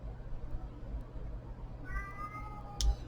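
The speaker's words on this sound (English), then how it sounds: "My cat will meow plenty during all of this" A pet cat meows a couple of times indoors, a short rising cry with a sharper one near the end, set against a steady low household hum.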